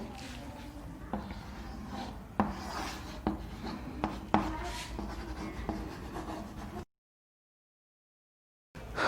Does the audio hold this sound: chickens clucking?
no